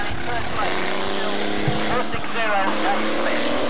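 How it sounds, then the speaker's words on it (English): Hotstox race cars lapping an oval track in Birmingham, a loud, continuous multi-engine drone with rising and falling pitch as the cars pass, under a commentator's voice over the public address. "Lead car coming down the back straight now to 75, Pete Scott."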